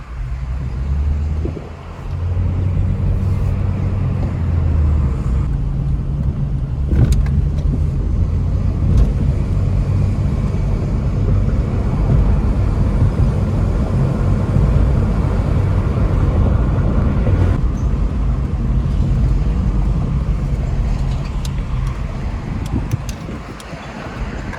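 A Honda Civic Hybrid drives through a neighborhood, its steady road and engine noise heard from inside the car with some wind rush and a few small knocks.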